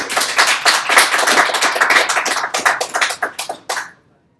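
Applause from an audience at a HackBeanpot 2018 talk: dense, loud clapping that thins into a few scattered claps before ending abruptly.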